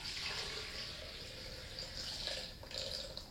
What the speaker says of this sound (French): vous ajoutez 1 litre d'eau